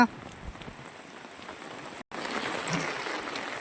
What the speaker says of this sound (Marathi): वारा इतका जोरदार वारा सुटलेला हा मित्रांनो आणि सरीवर सरी आहे पावसाण्या